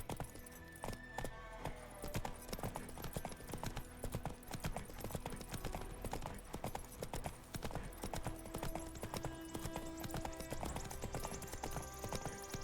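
Roach the horse trotting in The Witcher 3, steady clip-clop hoofbeats in a continuous rhythm, close and clear, with faint jangling of tack and a soft ambient background throughout.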